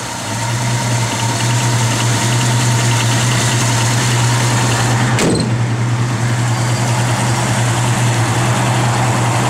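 A 1965 Ford Mustang with a 289 V8 converted to a four-barrel carburetor idles steadily and loudly up close, a constant low rumble with one brief sharp click partway through.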